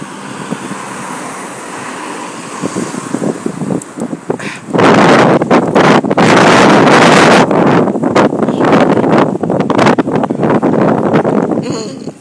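Strong wind blows outdoors, buffeting the microphone with a rumbling roar that starts moderately and turns loud and constant about halfway through.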